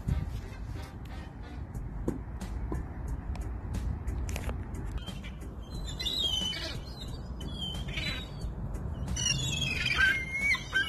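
Pigeons being fed potato chips outdoors flutter and peck, with scattered pecking and crunching, wingbeats and intermittent coos and chirps, close by amid background street noise.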